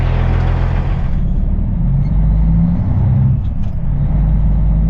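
A truck pulls away from a small truck stop on a February day, its engine a loud, steady low rumble that shifts slightly in pitch as it gets moving, close and continuous with no talking.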